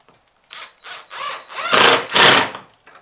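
A screw is driven into a wooden shelf of pine boards in a converted school bus bedroom, heard as several close, loud bursts of power-driver whirring that build in intensity, with no talking.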